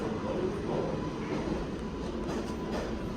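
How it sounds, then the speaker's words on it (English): A Manhattan-bound 7 local subway train rolls through an elevated NYC station, a continuous loud rumble and rattle of wheels on track with faint higher squeals, steady throughout with no talking. "A Manhattan-bound 7th local train."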